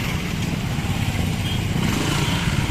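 Motorcycle engine rumbling steadily in congested traffic on a coastal road junction in Davao City, a continuous mid-pitched idle and drone close by, mixed with general street noise.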